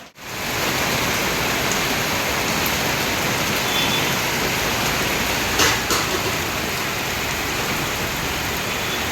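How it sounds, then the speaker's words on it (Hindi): Heavy rain pours steadily outside a hostel, a dense, even hiss of water filling the scene for the full stretch, with a brief louder splash or rattle near the middle and no voices. "देखो मैं दिखाता हूँ आप लोगों को सीन आज के बारिश के"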